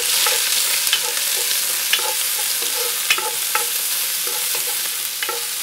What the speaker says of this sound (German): Und dann rühren wir mal um.